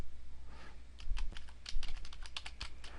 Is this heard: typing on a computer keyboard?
yes